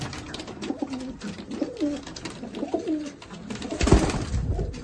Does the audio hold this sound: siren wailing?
no